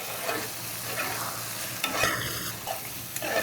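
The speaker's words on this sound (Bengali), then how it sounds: "এখন এটাকে আমি একটু ভাজা ভাজা করে দিব" Beef tripe fries in a pan while being stirred, with a loud close sizzle, scraping spoon strokes and a brief metallic clink partway through, and no talking.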